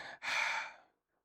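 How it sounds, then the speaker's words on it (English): One soft, breathy exhale, close and gentle, briefly interrupted and then fading into silence. "Softly panting."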